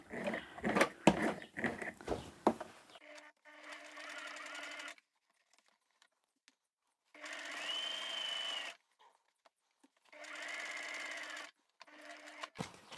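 A hand-cranked sewing machine stitches mending after some clattering handling, running in three separate even bursts of mechanical whirring with quiet gaps between.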